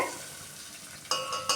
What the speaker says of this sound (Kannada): ಫ್ಲೇಮ್ನ ಸ್ವಲ್ಪ ಕಡಿಮೆ ಮಾಡಿಕೊಂಡು ಅದನ್ನು 1-2 ಸೆಕೆಂಡು ಈ ಥರ ಫ್ರೈ ಮಾಡಬೇಕು